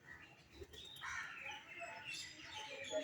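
Birds gather at a window where crows and pigeons come to feed, producing faint, scattered chirps and soft calls against a quiet background, the sounds irregular and somewhat distant.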